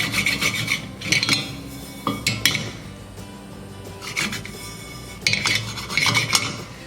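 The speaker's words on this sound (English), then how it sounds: "Just going to have some sesame seeds here on medium heat, just for a couple minutes." Sesame seeds toast in a cast iron pan over medium heat, stirred in bursts that make dry, raspy scraping and light clinks against the metal, with quieter gaps between strokes.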